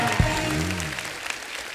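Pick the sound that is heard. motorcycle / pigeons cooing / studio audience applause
studio audience applause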